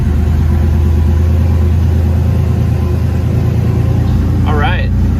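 An RWB-style Porsche engine idling steadily, a loud continuous low rumble close by, with a voice exclaiming briefly near the end.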